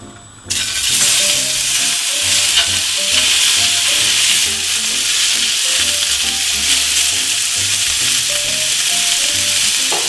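Welsh cheddar and bacon pork sausages with Mexican chorizo sizzle loudly and steadily in a ripping hot stainless steel pan, a dense close frying hiss that starts abruptly and runs continuously with light stirring.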